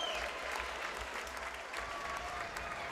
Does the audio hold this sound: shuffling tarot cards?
no